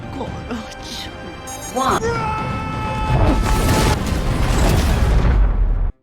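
A ship explodes in a loud, sustained roar that swells up and rumbles on for several seconds, with crashing debris and voices underneath before cutting off abruptly.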